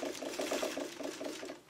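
A sewing machine backstitches through fabric while quilting landscape curves, its needle running in a quick steady rhythmic patter up close, loud and alone for under two seconds.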